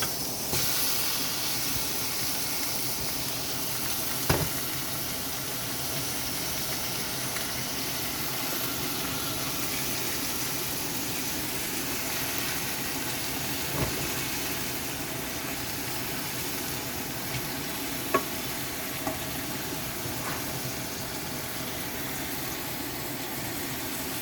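Pork belly (liempo) sizzles and hisses in a pan with sautéed garlic and onion, a steady loud frying crackle that continues throughout with a few sharp pops and no talking.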